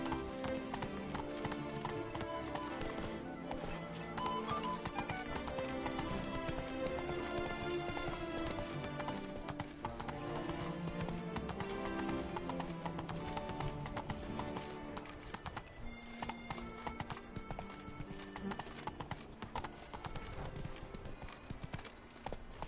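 Horse Roach galloping in a video game, with steady hoofbeats running throughout under a layer of music, fairly quiet overall.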